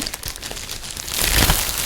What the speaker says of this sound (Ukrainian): Брендовий пакетик, величезна пупирка.